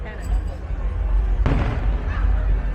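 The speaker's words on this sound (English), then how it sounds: "It's fireworks. Oh, it's fireworks." A cannon shot and fireworks fired from a hill at the Oktoberfest keg-tapping ceremony in Munich: one sharp, loud boom about halfway through, ringing out over a noisy crowd murmur and chatter.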